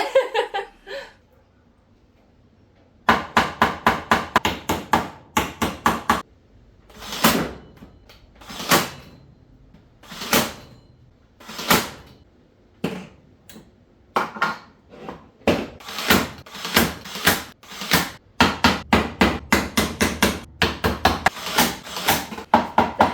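Sharp, repeated blows of a makeshift hammer, a hammer head stuck onto a screwdriver, on wood, irregular at first then coming in quick bursts, close and fairly loud after a quiet opening.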